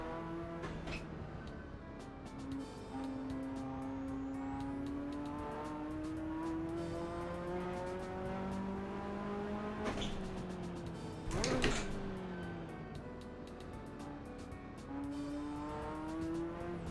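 Simulated car engine in Assetto Corsa driven with a manual shifter and no traction control, rising and falling revs through gear changes, sharp shift cuts around the middle, steady and close.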